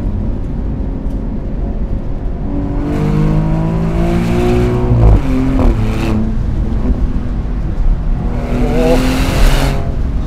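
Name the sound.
Maserati GranCabrio Trofeo driving on a winding road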